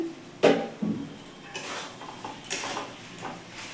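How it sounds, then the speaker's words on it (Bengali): A metal lid lifted off a pot of simmering chicken curry: a sharp clank, a second lighter clink, then soft scraping and rattling handling sounds close by in a quiet kitchen. "ঢাকনাটা আমি উঠিয়ে নিচ্ছি"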